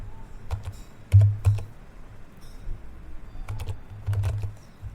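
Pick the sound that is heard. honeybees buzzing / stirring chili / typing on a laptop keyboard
typing on a laptop keyboard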